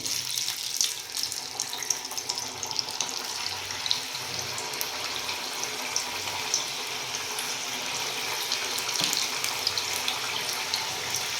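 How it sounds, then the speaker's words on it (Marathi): Masvadi dropping one by one into hot oil and frying, giving a steady, even sizzling hiss throughout with no talking. "तेल गरम झालेलं आहे आता त्याच्यामध्ये मी एक एक हे सोडून घेते"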